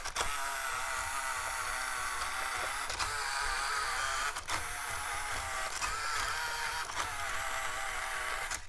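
A whirring, grinding steering servo buzz from a WPL C14 RC car runs continuously with occasional sharp clicks, close and fairly loud, with no talking.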